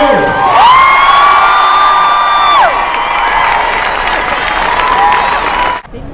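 Large political rally crowd in New Jersey cheering and shouting loudly, a dense sustained roar of voices with whoops carrying through and a long tonal shout rising above it.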